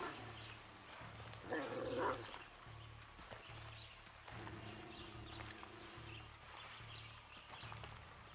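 A dog barks in the Far Cry 6 video game, several short woofs spaced through the scene amid game sounds and faint voices.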